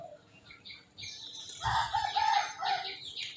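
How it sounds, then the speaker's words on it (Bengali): A rooster crows once, fairly close, with some clucking and wing rustle around it. "এই মোরগটা এটা আমার ভালো একটা মোরগ"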